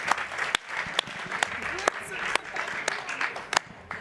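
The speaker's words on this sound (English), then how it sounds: "Big claps." An audience at the WSIS+20 high-level event in 2025 gives a round of applause in a conference hall. The clapping is steady and sustained, with a few louder individual claps sticking out and voices mixed in.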